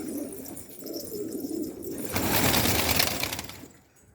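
Sarı Macar and Sarı Güllü pigeons coo nearby in low rolling calls, then a loud burst of wing flapping or rustling swells and fades toward the end.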